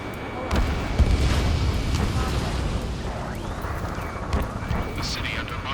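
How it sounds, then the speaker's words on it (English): Gunfire, booming blasts and roaring jets over a city under martial law in the Ace Combat 7 flight video game, a dense, loud rumbling barrage with scattered sharp bursts throughout. "Gunfire and the roar of jets echoing through the streets."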